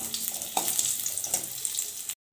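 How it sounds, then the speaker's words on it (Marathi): Dates roast in ghee in a pan, a brief soft sizzle with a few light stirring scrapes that cuts off abruptly. "मी थोडंसं तूप टाकलेलं आहे आणि हे खजूर भाजून घ्यायची तुपामध्ये"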